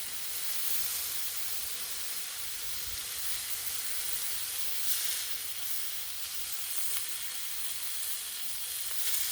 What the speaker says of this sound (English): So, I'm starting my sear.